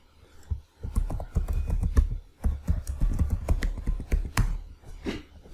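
Email and password typed on a computer keyboard, with a dense run of close, crisp key clacks in uneven bursts and short pauses between words.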